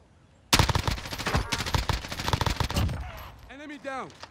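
Gunfire in Call of Duty Warzone, a loud burst of rapid automatic shots that rattles for about two and a half seconds, followed by quieter scattered sounds and a warbling tone.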